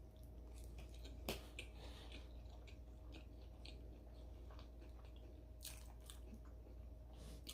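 Crunchy fried shrimp sushi with crispy topping bitten and chewed close to the mic, faint crunches at first, then one sharp bite and a few more crisp crunches later over a steady low background.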